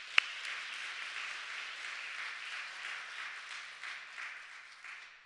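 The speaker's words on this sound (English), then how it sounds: "a round of applause for our entrepreneurs" Audience applause for entrepreneurs at a retail boot camp showcase party, a steady wash of clapping held at an even level from start to finish. It sounds somewhat distant and softly recorded, with one sharp clap standing out near the beginning.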